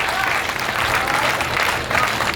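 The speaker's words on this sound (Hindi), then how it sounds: "तालियां कमजोर है।" Applause from a seated audience at a Hindi-language public talk, a steady dense patter of many hands clapping throughout, fairly close and even in loudness.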